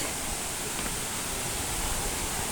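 Waterfall at Agoriani, Greece: a steady, even rush of falling water, broadband and constant, heard alone without talk.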